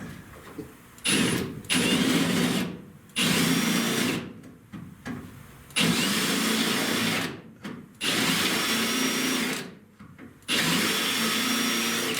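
An electric drill fitted with a new bit works on a 1966 Buick Wildcat convertible's rear taillight panel, running in repeated loud bursts of high whine broken by short pauses and softer stretches.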